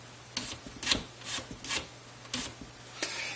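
A small volume control slider on an intercom master station scrapes back and forth repeatedly, gritty rubbing strokes in an uneven rhythm, close and fairly quiet over a low hum.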